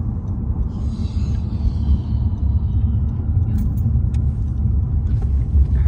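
A car driving along the road, heard from inside as a steady, loud low rumble of engine and tyres that runs the whole time without a break.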